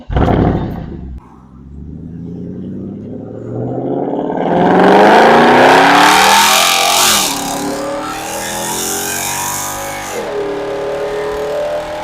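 A Mercedes C63 engine cranks and fires up with a sharp bark, settles briefly, then revs hard in rising and falling sweeps before dropping to a throaty idle, loud and close, with no talking.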